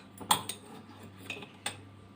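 Raw carp pieces being stirred with salt in a bowl, giving a few sharp clinks of utensil against the dish, with one strike early and another near the end over quiet handling.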